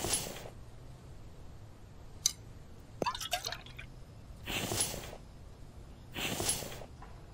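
Water being collected in the survival video game The Infected: soft drips and liquid splashes come in separate bursts, with a few faint ticks between them, all fairly quiet against a near-silent background.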